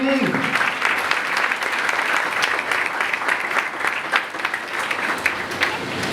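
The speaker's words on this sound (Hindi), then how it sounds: "जोरदार ताली यीशु के जलाल के लिए, यीशु के जलाल के लिए जोरदार ताली।" Loud, sustained applause from a church congregation at a Sunday sermon, a dense wash of clapping that fills the whole stretch without a break.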